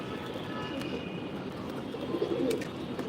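Pigeons in a racing loft give soft, low cooing calls over a busy background murmur, with a few louder coos standing out near the end.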